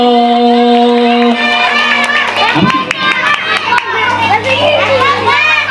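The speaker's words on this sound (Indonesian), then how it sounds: "Tepuk tangan dulu buat Marco." Children at a school religious celebration cheer and shout together in a loud, excited crowd, with clapping mixed under their high voices and a sustained tone running beneath.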